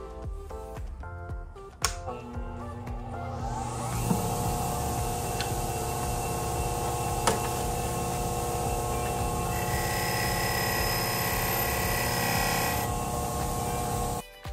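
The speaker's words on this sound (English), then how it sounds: "let's get it on the Prime MX wheel and clean this thing up" A Prime MX wheel spun up on a power tool cleaning a stock dirt bike axle, a loud steady whirring grind that holds for about ten seconds after a few clicks and handling noises, then stops abruptly.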